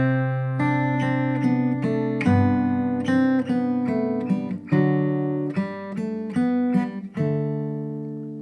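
Fingerstyle guitar plays a section of the Petzold Minuet, single notes and chords plucked at a moderate pace and left to ring over one another, clear and close with no voice.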